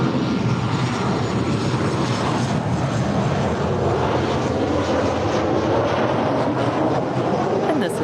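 Airliner taking off from runway 24L at LAX, a loud, steady broadband engine roar that holds throughout without pause, close and alone with no talk over it.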